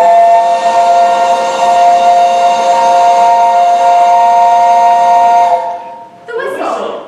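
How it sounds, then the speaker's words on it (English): A loud, sustained steam-style whistle blows as a sound effect in a radio drama, holding steady for several seconds before cutting off abruptly into a brief burst of other noise. "The whistle."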